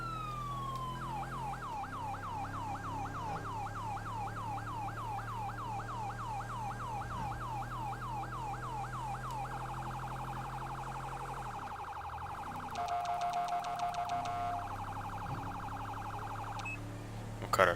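A police car siren in a video game wails in rapid repeating cycles, loud and close, then switches to a faster yelp pattern before cutting off, over a low engine hum.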